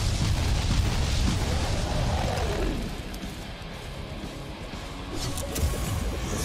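Explosions in the video game Valheim, a loud rumbling burst up front that fades into a lower, sustained roar and crackle, with a brief swell near the end.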